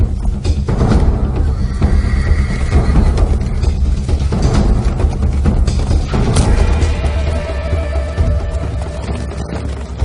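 Horses at a horseback archery training school in Kamakura, Japan, with a neigh among steady, loud outdoor commotion of hooves and thumps continuing throughout.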